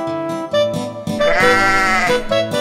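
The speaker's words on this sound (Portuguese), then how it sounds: "Vamos conhecer Memé, a ovelha negra." A black sheep bleats repeatedly in a sung cartoon nursery rhyme, loud close tonal bleats set over a musical accompaniment, with one long bleat in the middle.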